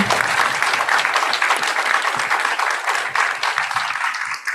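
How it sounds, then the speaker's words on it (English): An audience at a panel event on AI in project management gives the panelists and moderator a full, loud round of applause that runs dense and unbroken from start to finish. "Can we have a round of applause for all the panelists and our amazing moderator, Rochi?"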